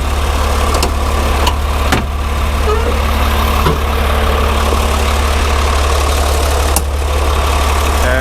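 A 2019 Isuzu FTR 240-horsepower six-wheel diesel truck with a 5-ton crane idles steadily close by, a low constant rumble with a few faint clicks and knocks over it.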